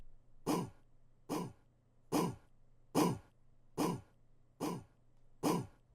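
A second vocal chant sample in a melodic Jersey club beat, heard as seven short, evenly spaced vocal bursts about 0.8 seconds apart over a low steady hum, each a clipped, breathy shout.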